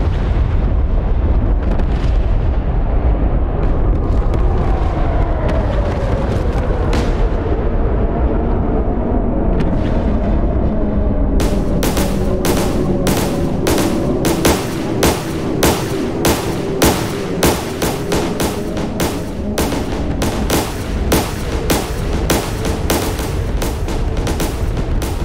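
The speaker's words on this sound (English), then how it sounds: "Oh, I'm getting fired at." Gunfire in DCS Star Wars space combat: a long rumbling blast fades out, then rapid sharp shots crack in quick irregular succession, loud and close for the rest of the stretch.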